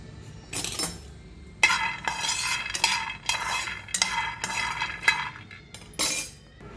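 Peanuts dry-roast in a pan while being stirred, giving a run of sharp scraping, rattling bursts. The strokes come roughly every half second, close and fairly loud against a quiet background.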